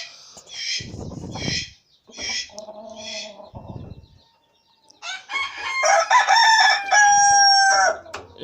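Silkie chickens cluck in short repeated bursts, then a rooster lets out a long, loud crow close to the microphone, with nobody speaking over the birds.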